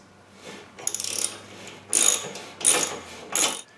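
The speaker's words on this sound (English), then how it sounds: "I'm going to use my 14mm hex head socket, and I'm going to loosen the axle" A ratchet with a 14mm hex socket loosens a motorcycle front axle in several bursts of rapid clicking, close and fairly loud, with short pauses between strokes.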